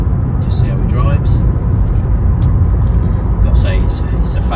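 A 2011 Mercedes-Benz C180 BlueEfficiency Elegance Edition with a 1.8 engine cruises along a road, its steady low engine and tyre rumble continuous and close, with a few faint higher noises flickering above.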